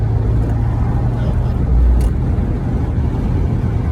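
A manual-transmission car cruising in fourth gear as it overtakes another vehicle, giving a steady, loud low engine drone with road and wind noise and a brief swell in the middle.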